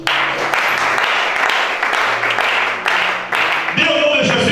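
A church congregation applauds steadily, a dense wash of clapping with voices and music mixed in underneath.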